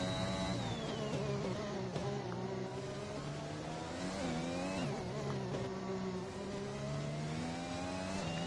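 Formula 1 car at the Brazil circuit in a racing video game, its engine whining steadily through a flying qualifying lap, pitch rising and falling with gear changes and corners, loud and continuous with no talk.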